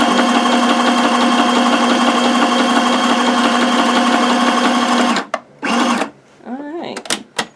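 Sewing machine stitching a large zigzag on fabric, a loud, steady rapid motor whir with rhythmic needle clatter for about five seconds, then stopping, followed by brief handling clicks and a short spoken remark.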